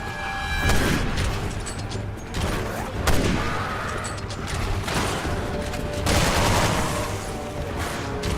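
Sustained bursts of automatic gunfire and heavy blasts from the 2012 video game Resident Evil 6, loud and dense with repeated impacts and booming shots across the whole stretch, with no talking.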